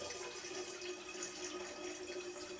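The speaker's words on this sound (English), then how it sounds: "I need to fill this demijohn with water" Water runs steadily into a glass demijohn during mead making, a continuous, even pouring rush heard up close with no talking.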